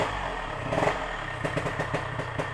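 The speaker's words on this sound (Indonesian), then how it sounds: "Motor harus dipanasin dulu." A 1983 Yamaha RX King Cobra motorcycle engine warming up at idle, a close, steady rough burble with pulsing two-stroke clatter.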